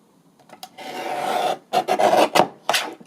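A ballet journal page trimmed along its edge, heard as close, raspy scraping cuts in several short bursts with brief pauses between.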